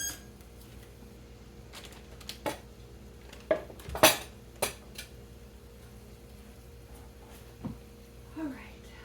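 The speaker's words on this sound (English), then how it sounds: "I am washing dishes as I go" Dishes being washed in a home kitchen while cooking, heard as scattered clinks and knocks of pots, plates and cutlery at irregular intervals over several seconds, close by with a quiet room background.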